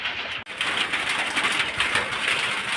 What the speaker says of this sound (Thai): ฝนตกพี่น้องก็มืดฝนตก